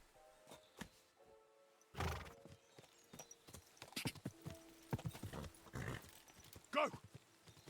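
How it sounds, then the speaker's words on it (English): Horse in the medieval game Kingdom Come Deliverance 2, hooves clopping in irregular bursts with a clear neigh near the end, close and moderately loud. "You're just an ordinary horse."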